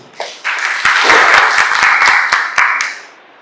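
Loud, close applause from an audience at a laboratory opening event, a few sharp individual claps swelling into dense clapping for about three seconds, then fading.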